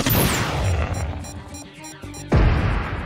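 Laser missile strikes in a battle royale video game: a sustained barrage of heavy booms and crashing blasts, then a sharp new explosion near the end, loud and dense throughout.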